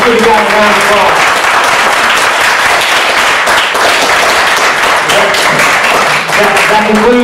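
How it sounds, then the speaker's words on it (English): Audience applause at a Republican candidate forum for superintendent of education, loud, sustained clapping throughout with some voices underneath. "Let's give you guys a round of applause."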